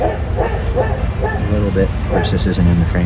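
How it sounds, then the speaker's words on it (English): A dog barks and yips repeatedly in the background while someone talks over it during a front brake caliper replacement on a 2017 Chevrolet Cruze. "We apologize about the dog barking"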